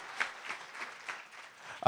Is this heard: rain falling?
no